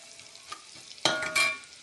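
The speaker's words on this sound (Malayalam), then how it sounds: "ഒരു ചീനച്ചട്ടിയിലേക്ക് ഉള്ളി, വെളുത്തുള്ളി, വേപ്പിൻ്റെ ഇല ഏലം ചേർത്ത്" Onion, garlic, curry leaves and cardamom hitting hot oil in a wok-like pan for Kerala Onam cooking: quiet at first, then a sudden loud sizzle burst that swells again before fading, with no talking.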